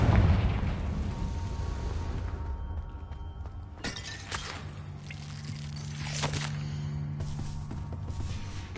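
Confringo explosive spell cast in Hogwarts Legacy, a sharp blast with shattering crackle followed by further bursts and rumbling debris amid game ambience, fairly subdued overall.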